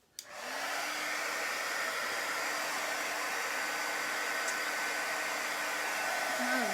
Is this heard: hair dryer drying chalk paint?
yes